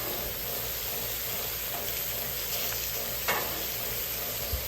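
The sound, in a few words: bacon frying on a Camp Chef griddle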